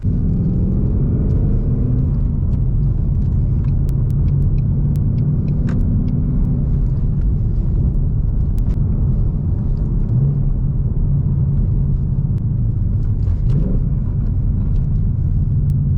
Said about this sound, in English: I will definitely say rev matching is by far my favorite part about driving stick so far